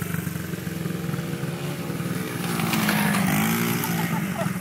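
A 50cc motorcycle doing hot laps on a short course gives off a steady buzzing drone that climbs in pitch toward the middle as the throttle opens, then eases slightly, heard from a moderate distance with no break in the sound.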